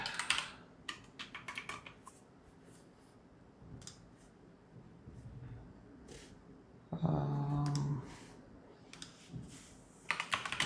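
Typing on a computer keyboard during live stock-option trading, with bursts of quick clicking keystrokes in short irregular clusters, fairly close and moderately loud, separated by pauses and a brief low hum.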